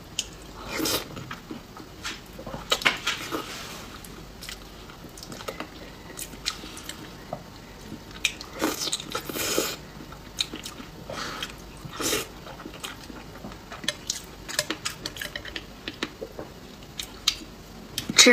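Someone eats pig brain flower in close-up, with soft, wet squishing and biting sounds broken by sharper crunchy and sticky bursts, irregular and near throughout.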